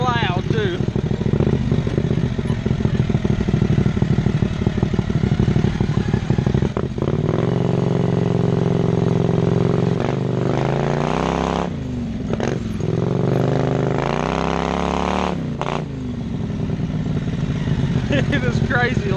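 A 670cc V-twin go kart engine runs loud and close, droning and revving up and down through the whole stretch with rising and falling pitch, a rough raspy exhaust tone dominating.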